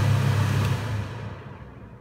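A Teka kitchen exhaust hood fan winds down from its high setting, a close, low whirring hum that steadily fades over about two seconds.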